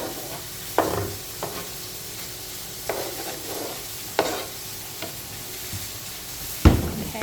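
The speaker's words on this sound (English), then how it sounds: "And then he's going to stir it all up." Potatoes are stirred in a cooking pan over a soft sizzle, with a series of spaced scraping strokes of a utensil and a sharper clank near the end, fairly quiet and without talk.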